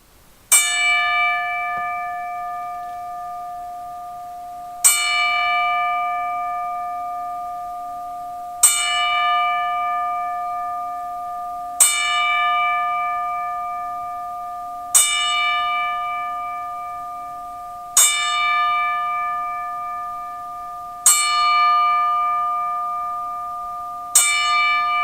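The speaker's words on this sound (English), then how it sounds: "we're going to do the 10-bell salute." Ten separate strikes of a single bell ring out as a memorial salute for wrestling manager Bobby Heenan, each tone clear and sustained, spaced about three to four seconds apart and fading between strikes.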